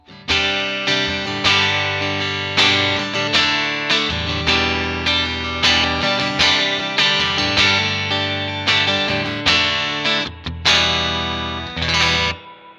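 An electric guitar strums bright, ringing chords in a steady rhythm through a clean amp tone on a Neural DSP Quad Cortex, each strike decaying before the next, with a brief pause near the end.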